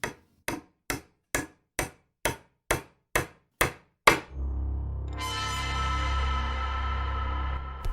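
About nine sharp, evenly spaced hammer blows ring out, then a deep, sustained rumble and crash swells up and carries on to the end.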